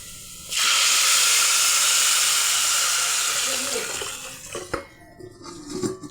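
A chilli powder mixture is poured into onions frying in hot oil for a nethili fish curry. It sets off a sudden, loud, close hiss of sizzling that holds strong, then fades and breaks into crackles near the end.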